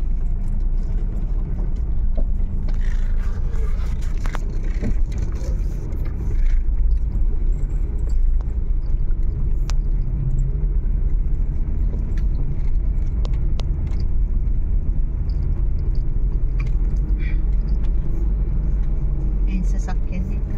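A car engine rumbles low and steady nearby throughout, a continuous close idle with faint jangling and background voices of people talking over it.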